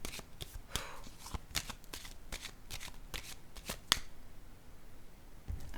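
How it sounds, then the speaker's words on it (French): Tarot-style cards being shuffled and drawn, a series of quick, crisp riffling bursts at close range, fairly quiet, with short pauses between shuffles and a final snap. "Je vais piger une carte pour cette zone-là."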